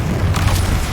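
A Bombarda spell explosion in Hogwarts Legacy, a loud, close booming blast with a rumbling low end that fills the whole second, with no talk.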